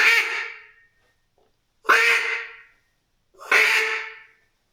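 Three separate quacks blown on a handheld duck call with the hand cupped open for a realistic tone, each a loud, nasal burst that trails off, spaced evenly about a second and a half apart.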